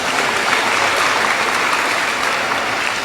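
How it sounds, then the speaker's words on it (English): Loud, dense applause from a large audience at a gathering of Hindu pundits in the GTA, sustained evenly throughout without a break. "Give them a round of applause."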